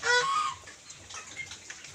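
Native chickens on a muddy rural farm in the Philippines cluck nearby, with a sharp burst of clucking at the start followed by softer scattered clucks.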